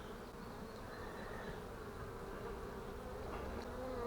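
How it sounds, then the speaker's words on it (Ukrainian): Agitated bees at an uninspected two-year-old apiary hive buzz in a continuous, even drone close to an open frame of sealed brood, with no voices. "Бджоли зляться"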